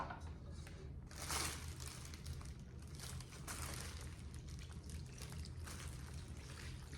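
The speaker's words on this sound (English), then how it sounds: "Just pour it right in" Sauce poured into a seafood bake with shrimp, giving a soft, steady liquid trickle and faint squishing throughout, quiet and close.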